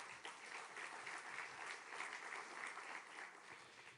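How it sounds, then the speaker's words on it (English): An audience at a two-state solution summit hosted in France applauds the ministers, a faint, distant and sustained wash of many hands clapping that tapers slightly at the close. "On peut les applaudir également"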